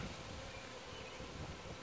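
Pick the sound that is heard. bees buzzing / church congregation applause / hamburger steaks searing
bees buzzing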